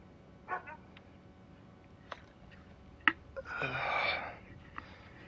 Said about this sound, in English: my dogs are going ape shit